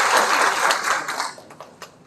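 Audience applause at a Democratic Party labor committee launch event in Cheongju, a short burst of many hands clapping that fades out over about two seconds.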